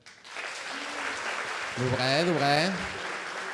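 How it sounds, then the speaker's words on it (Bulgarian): Audience applause from a comedy roast crowd, a steady broadband wash of clapping lasting a few seconds while someone speaks over it. "С пляскане."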